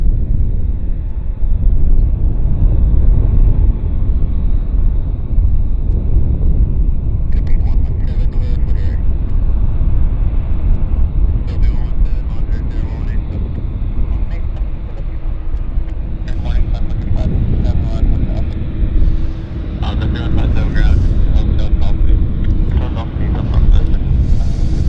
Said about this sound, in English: This aircraft is inbound from Toronto.